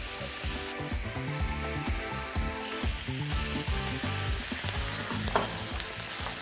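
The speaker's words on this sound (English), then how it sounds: "So I'm gonna sear the other side now." Steak sears in oil over a boma braai fire, a steady close sizzle with occasional stirring scrapes running the whole time beneath prominent rhythmic background music.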